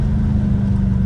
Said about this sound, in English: I want you guys to hear the full sound of this car because it's amazing